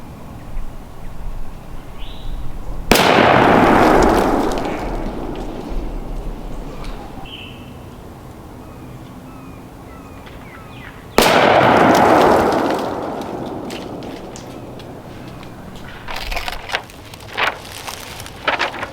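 Two loud shotgun blasts ring out outdoors several seconds apart, each followed by a long rolling echo, with faint birdsong and light rustling in between.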